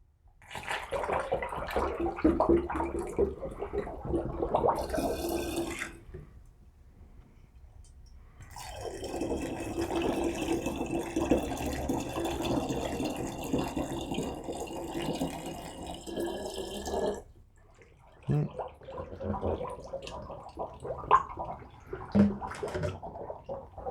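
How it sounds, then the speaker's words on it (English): Water poured into a one-gallon batch of lemon mead, a broad splashing pour that starts, pauses briefly, then runs steadily for several seconds before trailing off into quieter trickles and handling noises. "And let's start adding in some of the rest of our water."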